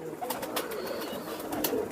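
Pigeons of the Kamagar, Teedy and Sialkoti breeds coo softly in a loft, with several soft, low, overlapping calls over a light background of shuffling and clicks.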